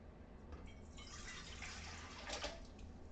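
Cold water poured into a stand mixer bowl in a home kitchen while meal-prepping a recipe: a soft, steady splashing trickle that swells briefly near the end, faint and close, with no voices.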